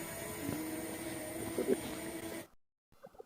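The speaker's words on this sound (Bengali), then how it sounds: "ড্রোনটা যখন উপর দিকে উঠলো" A camera drone's steady mechanical buzzing hum drones on for a few seconds as it climbs upward over Fulchhari Ghat, then cuts out abruptly.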